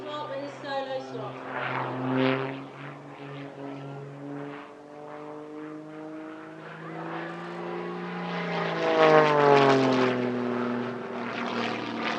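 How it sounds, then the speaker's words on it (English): An Edge 540 aerobatic aircraft performs a solo display at an airshow, its engine droning steadily with a rising and falling pitch as it manoeuvres, swelling louder toward the end. "He's flying the Edge 540, an aircraft that remains most famous for its use in the defunct Red Bull Air Race"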